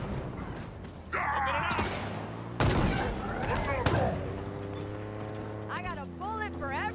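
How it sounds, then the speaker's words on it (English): Bursts of gunfire from weapons in the Halo Infinite video game ring out loud and near, mixed with mechanical clanks and alien-sounding chatter, under and between voices. "Oh, they're shooting at something over there."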